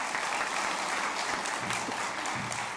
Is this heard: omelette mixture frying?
no